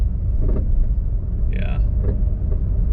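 A Chevrolet Sonic bought at auction and suspected of a bad front right strut, driving along with a steady low road and engine rumble from inside the cabin, plus a brief chime partway through.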